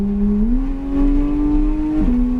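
A car engine accelerates hard on a cone-marked driving track, its steady rising drone shifting up in pitch and then dropping briefly as the throttle changes, loud and close with no talk.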